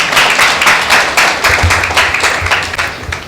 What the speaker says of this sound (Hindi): बोयर के लिए जोरदार ताली हो जाए